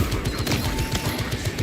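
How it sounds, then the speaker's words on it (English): Heavy bolt rifle firing in a Warhammer Space Marine video game, a steady rapid burst of heavy automatic shots that runs through the whole moment, loud and close with no talking. "now it gave me like a random heavy bolt rifle"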